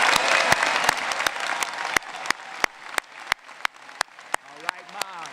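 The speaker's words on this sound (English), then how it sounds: "give a round of applause to moms and people that acted as moms" At a university spring commencement ceremony, an audience applauds graduates' mothers; broad clapping starts full and thins out, leaving sparse, distinct individual claps toward the end, with a brief musical tone at the close.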